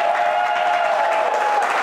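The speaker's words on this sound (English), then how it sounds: "A round of applause." An audience at a comedy show gives a loud, dense burst of applause that fills the whole moment, with faint crowd voices underneath.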